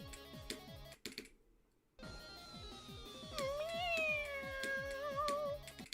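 A person imitates a loud cat, drawn-out meow-like wails rising and falling over rapid rhythmic electronic game music, after a brief silent gap.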